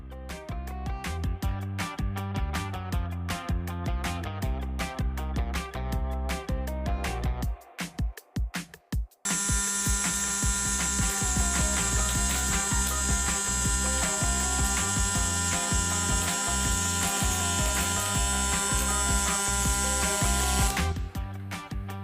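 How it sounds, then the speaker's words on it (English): Blaze LF collaborative welding robot running a weld seam, giving a loud, steady buzzing crackle that holds for roughly twelve seconds after a stretch of clattering mechanical sounds and brief pauses. "Let's have Blaze run this weld."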